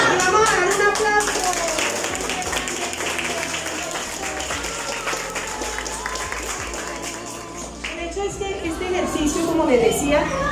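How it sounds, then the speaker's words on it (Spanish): An audience at a live event claps, with broadband applause mixed with voices and tonal sound running through. "¡Un aplauso!"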